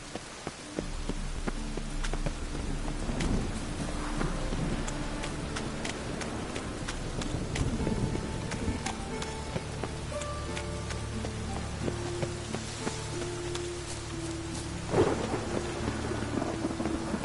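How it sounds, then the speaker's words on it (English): In the video game The Witcher 3: Wild Hunt, steady rain patters over a long stretch while rolling thunder rumbles through, with faint horse hoof clops and scattered game effects mixed in. "It's raining again."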